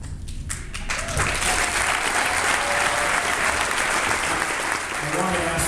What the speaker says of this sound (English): I want to ask my wife Betsy to stop starting the applause